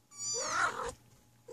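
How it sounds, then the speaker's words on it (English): A single high-pitched kitten meow, close and fairly soft, rising then trailing off in an otherwise quiet room. "they're just meowing because they wonder where you at"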